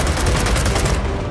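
Rapid gunfire rings out in the video game Gears of War 4, a loud, dense fusillade of repeated shots in quick rhythmic bursts that fills the whole moment before cutting off sharply.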